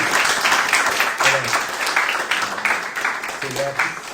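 Church congregation applauding to welcome first-time visitors, a steady wash of many hands clapping close by, with voices and a few calls heard beneath.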